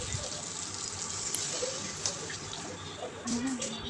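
Water pours into a pan of spiced yogurt curry for Bengali doi katla, a steady close splashing gush lasting the whole moment, with a voice speaking over it.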